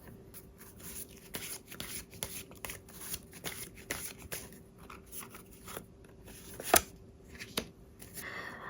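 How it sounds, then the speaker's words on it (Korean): Tarot cards shuffled and handled in a quiet room, a steady run of soft riffling and flicking strokes, close and fairly faint, with one sharper snap near the end and no talking. "우리 여러분들이 위한 행운 좋은 카드 한 장 보면서 이야기 정리해 보도록 할게요"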